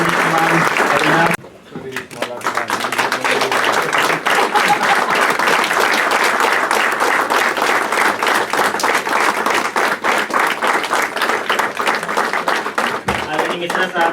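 An audience at a retirement farewell function applauds warmly, dense sustained clapping that briefly dips near the start then continues loud and close for the rest.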